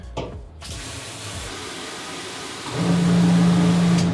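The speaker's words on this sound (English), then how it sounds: "it's pumping water now" A faucet on its shower setting sprays water into a sink with a steady hiss, then a louder rush and a low pump hum begin toward the end, with no talking.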